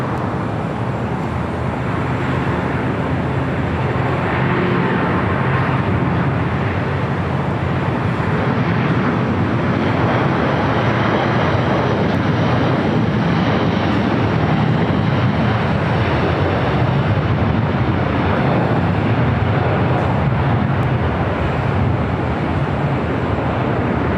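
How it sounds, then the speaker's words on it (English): Jet aircraft at LAX, including a Delta Airbus A330neo and Lufthansa jets, produce a loud, steady broadband roar of engines that holds for over twenty seconds with no breaks, like a continuous wash of turbine noise across the airfield. "we've got that Delta A330 Neo heading to Paris"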